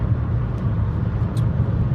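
A car on Firestone Firehawk GT all-season tires rolls along a wet road, giving a steady, loud low rumble of tire and road noise with faint hiss throughout and no talk.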